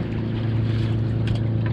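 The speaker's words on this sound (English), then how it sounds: "A little bit bogged down right here, so we'll lift the motor just a hair." The outboard motor of a small shrimp trawling boat runs steadily on opening day of shrimp season, a loud, low droning rumble mixed with wind and water noise.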